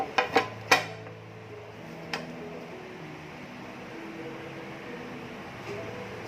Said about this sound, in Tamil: இப்போ வந்து நான் இந்த தட்டத்தை தான் வச்சு இதை மூட போகிறேன்